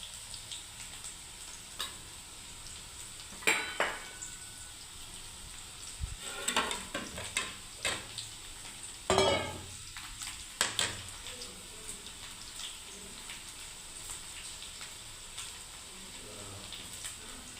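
Bitter gourd and onion frying in oil in a pan, a steady quiet sizzle broken by occasional louder stirring scrapes and clinks, close and without talk.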